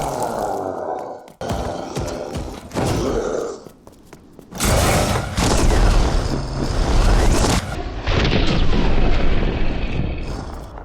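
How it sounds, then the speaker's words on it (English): A rocket launcher fires in the Resident Evil Re:Verse game, with loud deep booms and rumbling blasts over game noise and character grunts, building to sustained explosive roars in the second half. "It's just another rocket launcher"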